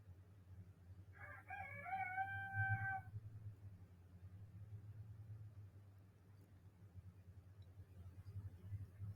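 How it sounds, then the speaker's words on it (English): A rooster crows once, a brief harmonic call at a moderate distance over a steady low background hum, with no talking. "There's a rooster."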